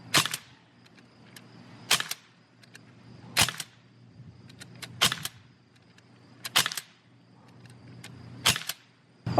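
A Sig MCX airgun fires Gamo Red Fire pellets, six sharp, loud shots spaced about one and a half seconds apart, each with a short ringing tail over a steady low hum.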